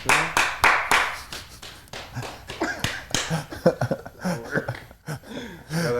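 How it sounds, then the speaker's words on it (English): Sharp single hand claps used for syncing audio during a casual podcast-style recording, a few loud crisp slaps at the start followed by people talking nearby. "Like the louder one clap you can do, the easier it is to sync."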